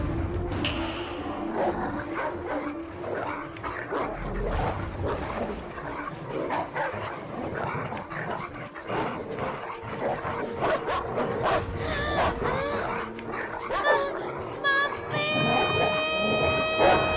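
Dogs set loose on a young girl in an Indian film scene bark, yip and whimper in an agitated jumble, with some background clamour throughout.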